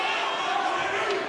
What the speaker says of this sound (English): This crowd here at Thunder Studios going nuts